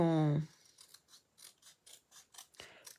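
Scissors snip blue paper in two, a quick run of crisp, evenly spaced cutting clicks after a brief tonal sound at the start, close and fairly quiet.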